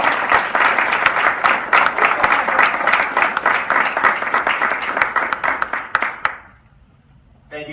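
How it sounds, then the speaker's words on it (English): A banquet audience applauds in a loud, lively burst of clapping, many hands close and crisp for about six seconds before it fades quickly to near silence, with a brief sound returning at the very end. "Thank you so much for all of the applause."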